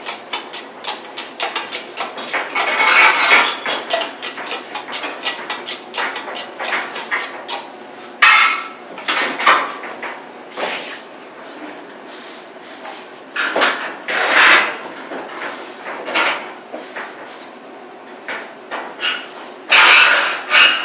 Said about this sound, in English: Ratchet it back a couple of feet, lift it up again, and we'll just scoot this right into place